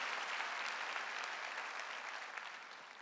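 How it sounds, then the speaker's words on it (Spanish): A Palm Sunday church congregation breaks into sustained applause, dense even clapping filling the hall and slowly tapering off, with no voices standing out. "Dale un aplauso a Cristo"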